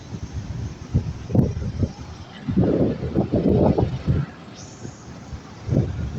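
Gusty wind buffets the microphone in rumbling bursts, rising and falling over several seconds.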